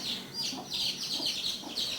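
Close, rapid clucking from a chicken, a string of short, bright calls repeating steadily for a couple of seconds with nothing else competing.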